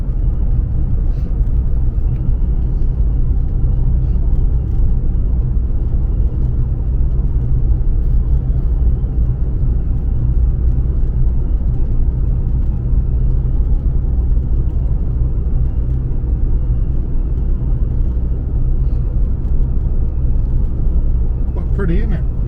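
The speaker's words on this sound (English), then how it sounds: "The car seems to be doing it really easy. We're going uphill." A car climbs a hill on an outback road, its engine and road noise forming a steady, loud, low rumble that runs throughout with little change, while people talk inside the cabin.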